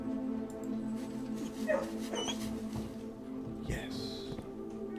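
A dog in a kennel in the Blue Prince video game whimpers and gives short yips and barks, a few scattered sharp cries over a steady background hum, with a person speaking over it.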